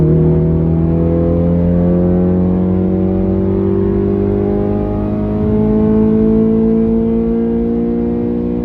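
A Honda Civic Type R FN2 engine revs hard in VTEC on a quiet road, its loud, smooth rising tone climbing steadily and alone throughout.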